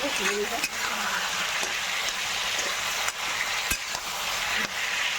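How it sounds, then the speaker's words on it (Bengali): Potatoes and pointed gourd sautéing in a pan make a dense, steady sizzle throughout, with a few sharp knocks of a spoon and a brief murmur of a voice near the start. "এদিকে আলু পটল দিয়ে কষে দিচ্ছি"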